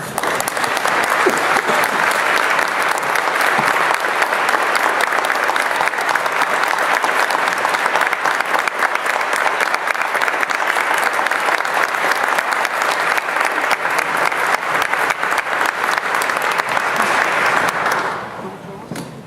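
Sustained loud applause from an inauguration audience for standing faculty at Central Methodist University, a dense steady wash of clapping that holds for about eighteen seconds before tapering off at the end.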